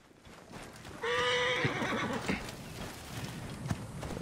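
A horse in Assassin's Creed Origins gives one loud, close whinny lasting about a second, with soft clip-clopping hooves before and after it.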